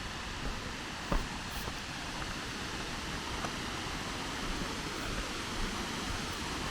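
Waterfall at Black Lake in Durmitor National Park, Montenegro, a steady, broad roar of rushing water that holds constant throughout with no talking.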